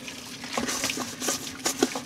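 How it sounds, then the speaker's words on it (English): Hot water runs from a tap into a sink, a steady close liquid rush with brief splashy bursts throughout, heard alone without talk. "oh, there's nice hot water."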